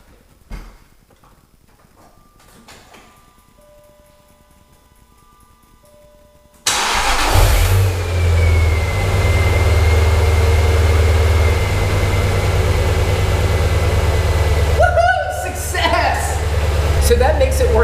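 A car engine cranks and catches after a belt replacement, then settles into a loud steady idle. Brief chimes and quiet sounds come before the start, and a short squeal-like sound occurs later in the idle.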